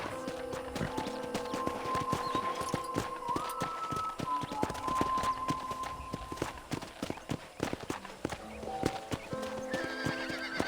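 Steady clip-clop of horse hooves at a walking pace on a ranch in Red Dead Redemption, with a whinny, over sustained electronic music tones.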